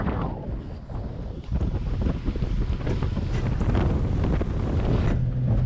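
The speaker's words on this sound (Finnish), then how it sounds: "Hirvee tuuli." Strong wind buffets the microphone outdoors by the water during a hunting trip, a loud continuous roar that swells and gusts for several seconds with no voices.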